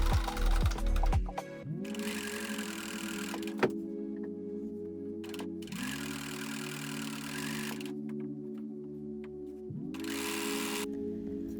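A sewing machine topstitches through three layers of shirt fabric on a back yoke, running in three steady bursts of whirring motor hum separated by short pauses, close and fairly loud with no talking.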